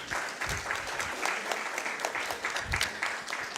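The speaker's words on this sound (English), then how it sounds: "Please give him a round of applause." Audience applause at a Rotaract Club of Grenada and Communal Co-operative Credit Union ceremony as a speaker is called to the stage: steady, dense clapping from a crowd that continues throughout without pause.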